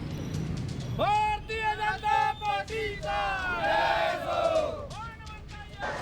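A crowd celebrating outside the BJP office in Mumbai after the 2024 assembly election results chants loudly in unison, in rhythmic bursts separated by short pauses.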